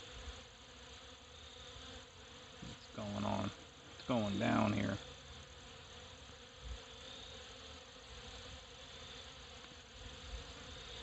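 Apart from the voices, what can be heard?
honeybees fighting while robbing a barrel colony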